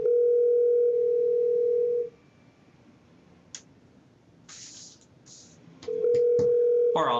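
Outgoing call tone in Gmail video chat, a steady electronic ringing tone that sounds, pauses with faint clicks and keyboard taps, then returns loudly.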